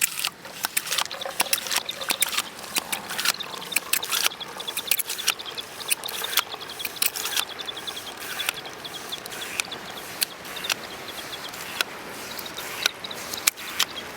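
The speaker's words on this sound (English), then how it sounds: "at 0 on my watch, we're going to start to pump, and we'll see how long it takes to fill up 1 liter" A hand-pumped camping water filter filling a 1-litre bottle, giving irregular trickling and dribbling of water with clicky pump strokes, close and moderately loud, with faint birds in the background and no talk.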